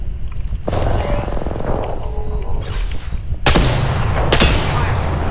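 Rapid bursts of gunfire in the video game Apex Legends, loud and close, with sustained automatic volleys and sharp booming shots overlapping through most of the stretch.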